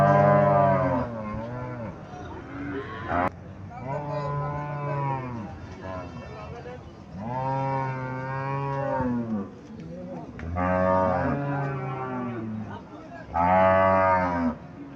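A cow at a cattle market moos repeatedly in long, loud, drawn-out calls, about five separate moos with short pauses between them and no other sound over them.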